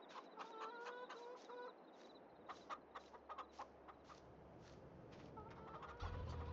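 Chickens in the farming video game Farming Simulator 22 cluck in a steady series of short calls, fairly close and clear over a quiet background, with brief low thuds at the end.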